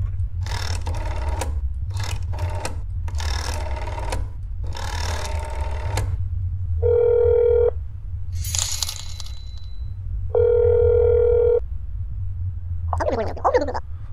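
Telephone dialing and a dial tone in the horror game That's Not My Neighbor: quick electronic key beeps, then two steady sustained tones separated by a short gap, with brief digital chirps near the end.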